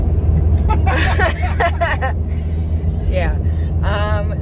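An RV rumbles along the road toward a campsite, a steady low engine and road drone inside the cabin, with people talking briefly over it.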